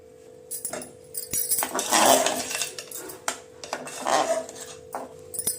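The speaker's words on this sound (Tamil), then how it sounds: "கைவிடாமல் கலக்கிட்டே இருப்போம்." Rava pongal stirred in a pot on the stove with a metal utensil, with irregular clinks and scrapes against the pot and a louder knock now and then.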